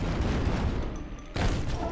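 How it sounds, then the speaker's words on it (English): A flame cannon in a floating city builder video game fires with a loud booming blast and roaring rush, then a second sharp burst follows, with no talking. "the flame cannon is fired, expecting a hit"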